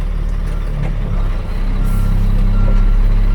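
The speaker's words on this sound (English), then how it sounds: "And all the trucks come with that beeper, the backup beeper." A 7-ton MTVR military truck idles with a deep diesel rumble while its reversing beeper sounds a steady, repeating electronic tone, loud and nearby.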